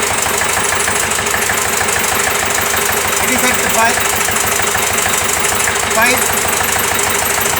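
A diesel engine on a test bench runs at a steady, loud idle during a retardation test, its even mechanical drone continuous throughout while a person speaks a brief word over it.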